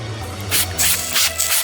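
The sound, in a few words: fire extinguisher spraying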